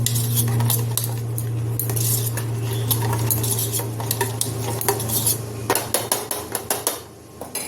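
A spoon stirs and scrapes through poppy seed and mustard paste in a pan for a steady stretch, with metallic clinks growing sharper and more rhythmic toward the end over a constant low hum.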